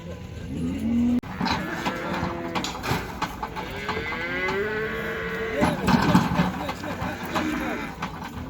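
Cattle low repeatedly at a busy livestock market in Uzynagash, Almaty, with several long moos rising over a crowded background of voices and passing vehicle engines.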